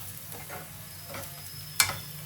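Mango chitranna seasoning fries in a pan with a quiet, steady sizzle, and a single sharp tick or clink near the end.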